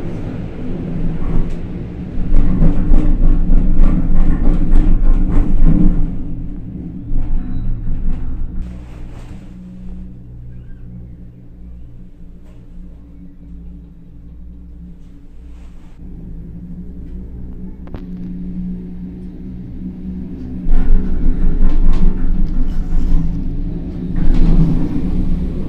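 A Doppelmayr detachable cable car in Zagreb runs through its station with a steady low mechanical rumble and hum. The sound swells louder at the start and again near the end, with no voices.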